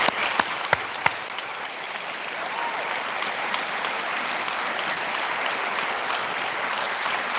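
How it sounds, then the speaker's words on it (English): Steady applause from an audience at a high school senior awards ceremony, a few sharp claps at the start, then sustained even clapping that fills the whole stretch. "Let's give our students another round of applause."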